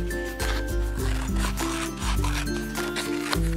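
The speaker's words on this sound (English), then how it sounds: "So with that, now just cut it out." Scissors cutting a square of construction paper, close up: a steady run of snipping and paper rustle with repeated blade closes, with a faint tonal hum underneath.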